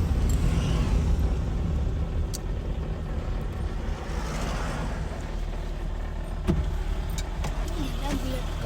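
Cars rush past fast on a hillside road, a continuous roar of traffic with a few brief sharp clicks over it.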